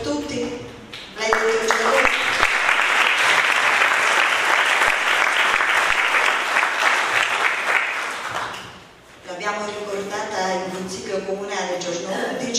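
A room of people at a memorial gathering claps in sustained applause for about seven seconds, ending as a person resumes speaking; talk is heard before and after the clapping.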